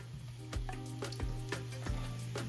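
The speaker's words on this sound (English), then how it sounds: "put my mushrooms in my pan just to kind of get it going." Mushrooms sizzle gently in a cast iron skillet, a soft frying hiss with a few sharp clicks and scraping knocks recurring about every half second as they are moved around.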